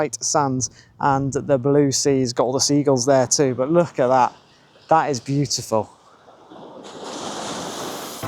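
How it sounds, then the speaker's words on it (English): People talk close by for several seconds, then the steady wash of surf rolls in on its own on Bruny Island, Tasmania, a soft broad rush of breaking waves. "you might be able to hear the sea in the background"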